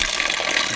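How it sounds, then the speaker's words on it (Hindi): Natural spring water pours and splashes continuously at a forest water source, a close, bright gush filling the whole brief moment with no voices over it. "अच्छा, यही है वो स्प्रिंग वाटर"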